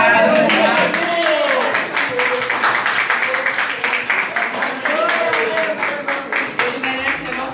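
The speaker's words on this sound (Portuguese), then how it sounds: "dê uma salva de palmas bem forte, porque o Senhor merece ser glorificado" Church congregation clapping hands in praise, rhythmic claps running under a loud preacher's voice and sung or shouted phrases throughout.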